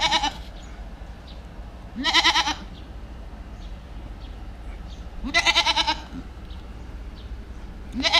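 A goat near Sabang in the Philippines bleats three times at spaced intervals, each call short and wavering, close by over quiet outdoor background.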